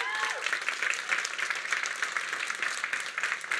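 An audience at a web cohort demo day event at Google headquarters applauds, dense sustained clapping from many hands filling the room.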